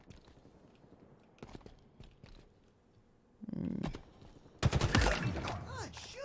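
Gunfire from a Halo video game comes in short, quick bursts, building to a loud, dense volley near the end, with a muffled thump partway through.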